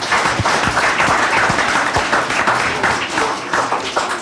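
Kids at a team meeting applaud their parents with loud, dense clapping from a group in a room, sustained for several seconds.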